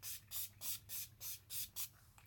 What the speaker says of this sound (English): It's nice to use a real setting spray.